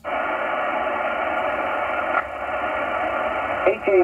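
Ham radio receiver tuned to the 10-meter HF band, a steady wash of hissing static and band noise filling the whole stretch, with a faint burst of distorted signal near the end.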